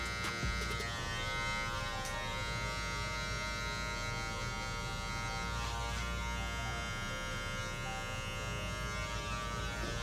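Saber hair trimmer buzzing steadily and close during a taper haircut, a constant electric hum with bright harmonic whine that stays even throughout with no talk.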